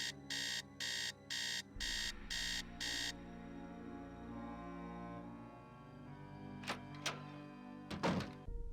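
An alarm clock is set in the Nancy Drew game Message in a Haunted Mansion. Six quick, evenly spaced electronic beeps ring out, then a low hum, followed by a few soft thunks and clicks near the end.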